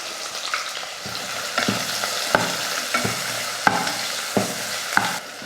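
Small shallots fry in hot oil with cinnamon, cloves and curry leaves for a mutton curry, giving a constant crackling sizzle broken by several sharp scrapes and knocks of a stirring spoon against the pan.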